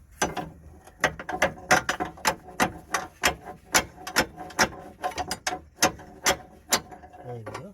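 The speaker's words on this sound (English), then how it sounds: "remove the bolts which we loosened" A ratchet wrench spins out the lower suspension control arm bolts on a Mitsubishi Outlander, a close run of quick metallic clicking bursts in a fast, uneven rhythm, with someone briefly speaking near the end.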